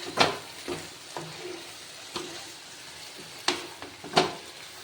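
Banana flower fries quietly in a pan, with a soft sizzle under scattered scraping clicks of a spoon stirring it, a handful of distinct strokes over a few seconds.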